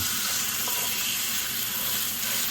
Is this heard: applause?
no